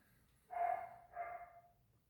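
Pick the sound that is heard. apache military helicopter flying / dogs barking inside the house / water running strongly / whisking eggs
dogs barking inside the house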